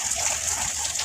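Heavy cyclone rain pours outdoors as a dense, steady hiss that stays loud and even through the short stretch, with no voices over it.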